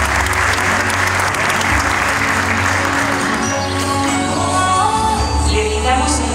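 Loud, sustained applause from the audience at a Chilean school graduation ceremony for the students receiving their diplomas, a continuous roar of clapping with a low hum underneath, steady from start to finish.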